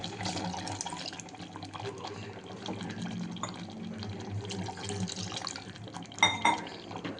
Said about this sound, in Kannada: ಇವಾಗ ನೀರು ಆ್ಯಡ್ ಮಾಡ್ಕೊಳ್ಳೋಣ